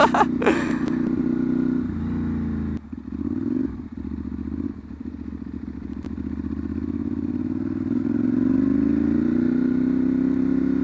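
A Ducati Monster 796 fitted with an SC Project exhaust is ridden along at close range with a steady, buzzing engine note. The note dips and recovers with throttle changes, and brief clattering bits break in.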